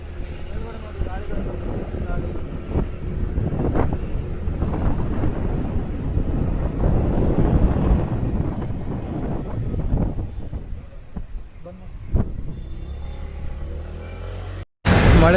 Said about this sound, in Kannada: ಈ ಕಡೆ ನೋಡಿ ಗಾಯ್ಸ್, ಬಿಲ್ಡಿಂಗ್ ಫುಲ್ ಗಾಳಿ